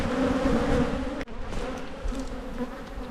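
Honey bees swarming around an open backyard hive, a dense, continuous buzz close to the ear, broken once by a brief dropout partway through before the hum carries on, steady and loud.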